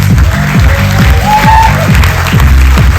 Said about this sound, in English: Everyone please give Dave a round of applause